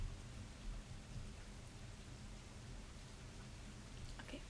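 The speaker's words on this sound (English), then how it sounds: "it is raining quite hard now" Heavy rain pours steadily as a dense, even hiss, continuous and fairly faint, with no voices.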